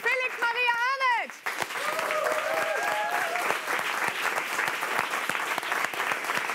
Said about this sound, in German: Und natürlich einen riesen Applaus an Felix Maria Arnett